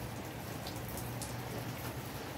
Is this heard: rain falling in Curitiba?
yes